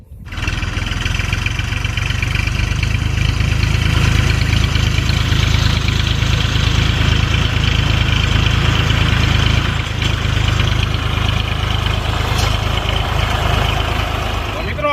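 A tractor engine runs steadily up close, a loud, continuous low rumble that holds at an even level throughout.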